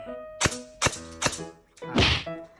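An airsoft gun is fired at close range during a power test, with three sharp cracks at steady intervals followed by a longer, louder burst, set against a faint steady hum.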